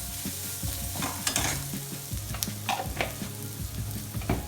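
Onion stuffing with chili powder and spices sautéing in a pan, soft steady sizzle broken by repeated scraping and stirring strokes, no talk.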